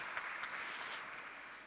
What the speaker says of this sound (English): An applause for our customer, please.